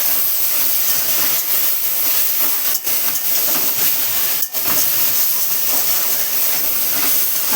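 Water spinach greens fry in a pan with a continuous loud, hissing sizzle, broken by two brief dips where the greens are stirred. No one talks.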